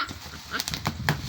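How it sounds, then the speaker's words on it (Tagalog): A puppy barks in a few short, yappy bursts during a parcel unboxing, close and moderately loud, with faint background voices and handling noise. "ang ingay pa ng tuta namin"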